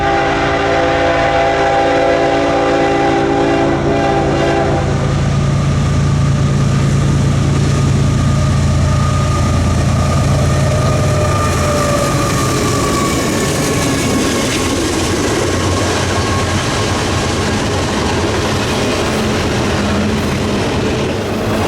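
Norfolk Southern freight train NS 266 on the Chicago line at Ogden Dunes sounds a loud, sustained multi-tone horn blast, then rumbles past close by with steady wheel and car noise.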